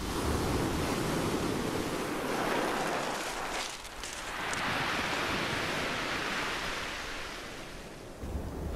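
Ocean waves wash onto a sandy beach in a continuous broad hiss of surf that briefly eases and then swells again, steady and moderately loud with no voices.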